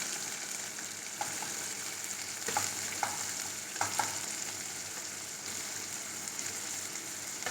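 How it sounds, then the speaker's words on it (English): Two large, very finely chopped onions fry in a pan with a soft, even hiss, while a few quiet scrapes and taps from stirring stand out near the middle. No voices are heard. "Let's fry all of this nicely."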